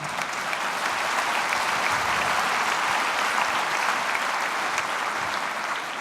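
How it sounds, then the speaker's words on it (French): A crowd at a university's academic year opening ceremony gives sustained, even applause after a speech, a dense wash of clapping lasting six seconds without any voices. "cette prestation aussi est applaudie"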